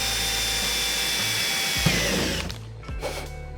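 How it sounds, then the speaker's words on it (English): Power drill center drilling metal parts for a race car's rear wing mount, a steady high whine running close and loud, with the pitch dropping and the motor slowing near the end. "We're gonna start out by center drilling all these things so the drill bit doesn't walk."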